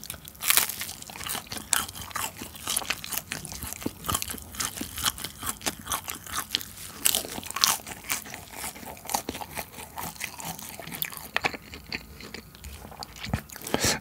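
Close, crisp crunching and biting on Burger King spicy Angry Nugget King nuggets and garlic fries, irregular bites and chewing crackles repeating throughout at a quiet level, with no talking.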